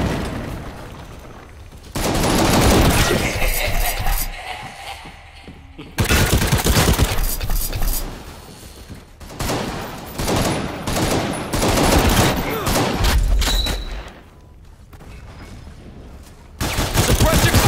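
Heavy gunfire in a World War video game, sustained suppressive fire coming in long, loud volleys of overlapping shots and blasts, broken by brief lulls before resuming.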